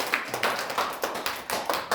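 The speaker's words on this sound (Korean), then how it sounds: "박수 한번 쳐줍시다." A small group claps hands in a church class, quick uneven claps in a steady rhythm for about two seconds, close and moderately loud.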